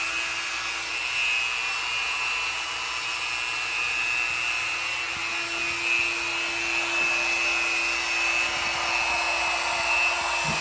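A high-speed rotary tool spinning at around 15,000 RPM grinds grout out of shower tile joints, a steady, thin, continuous whine with gritty rubbing beneath, sustained without pause and with no talk.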